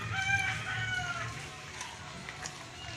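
Turkeys call out in a provincial farmyard, high gobbling sounds repeating over a low background hum.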